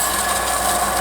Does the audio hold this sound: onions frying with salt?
no